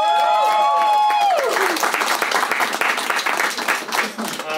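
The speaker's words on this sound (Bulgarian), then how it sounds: "Аплодисменти наистина и за двамата." An audience in a televised debate studio breaks into applause for both debaters right after a speaker's closing line, a dense, sustained burst of clapping that stays loud to the end.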